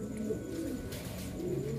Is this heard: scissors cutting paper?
no